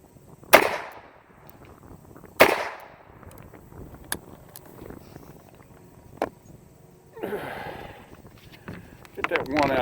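An old gun fires 30-year-old surplus ammunition, giving a few sharp, loud cracks spaced seconds apart, with softer mechanical clicks and handling noise between them and a voice talking quietly in the background.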